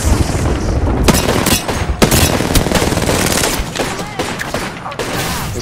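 Gunfire and an artillery strike from Bangalore's ultimate in a battle royale video game, with dense rapid shots and heavy booming impacts over a steady loud roar throughout.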